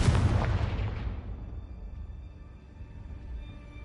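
A Confringo blasting spell detonates in Hogwarts Legacy: one loud, close, broadband boom that hits at once and then rolls off in a decaying rumble over several seconds, with no voices.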